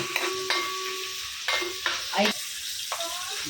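Garlic sizzles in hot oil in a pan for a tadka, while a utensil scrapes and stirs in short bursts, close and clear, with no voices.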